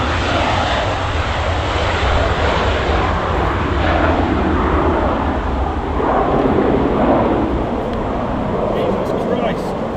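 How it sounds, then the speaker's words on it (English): A private jet's engines roar steadily and loudly, a broad continuous rumble that stays constant throughout with no talk over it. "there's a private jet over there."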